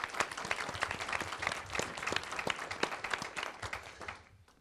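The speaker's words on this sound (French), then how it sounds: "On peut applaudir." An audience at a formal gathering applauds for a guest of honour, a dense wash of clapping from many hands that fades out at the end.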